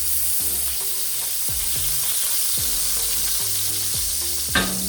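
Butter and oil melting and sizzling in a pan, a steady hiss with repeated scraping of a utensil stirring, fairly close and loud.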